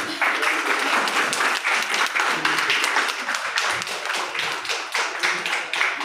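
Audience at a Punjabi song release event clapping, loud and close, with dense, rhythmic hand claps continuing steadily for several seconds.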